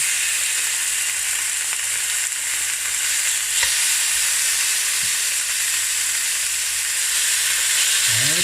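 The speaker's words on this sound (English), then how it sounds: "now it's time to fry our bulgogi. We got the cast iron, got some vegetable oil in there." Bulgogi frying in vegetable oil in a cast iron pan, giving a loud, steady, dense sizzle with a few faint clinks, close up and without speech.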